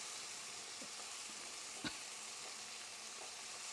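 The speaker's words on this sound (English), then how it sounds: "So the tomato is still cooking." Tomatoes cooking for rasam in a pan, a soft steady sizzle and faint bubbling with one brief tap of a utensil, close and quiet.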